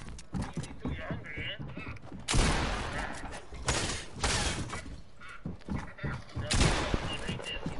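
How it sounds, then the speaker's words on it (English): Video game gunfire, bursts of rapid shots and loud cracks arriving in irregular clusters, mixed with clattering game effects and a player talking over the action. "I need to reload my gun so I can survive."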